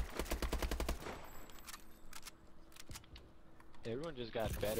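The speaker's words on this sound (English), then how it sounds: "Everyone just got better at shooting." Rapid automatic gunfire from the Call of Duty Advanced Warfare video game, a fast burst of sharp shots at first followed by scattered clicks and later a voice speaking.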